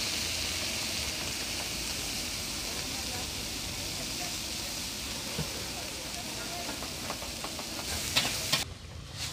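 Taco fillings of onion and nopales sizzling steadily on a street-stall griddle as they are stirred and turned, with scraping spatula clicks near the end and someone talking over the cooking.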